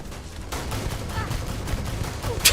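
Rapid gunfire rattles in Starfield during a close-range fight aboard a ship's lower decks. The dense volley of shots is loud and continuous, with a sharper burst at the end.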